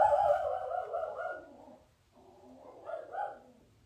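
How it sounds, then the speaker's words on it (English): A dog gives a drawn-out, whining bark-howl at close range, a loud first burst fading away, then a shorter second yelp after a brief pause. "That's my dog."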